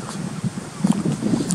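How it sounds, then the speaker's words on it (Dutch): Strong wind blows outdoors at a camping spot just outside Le Havre, a steady buffeting rush with low gusty rumbles hitting the microphone and swelling louder toward the end. "er staat wel veel wind hier"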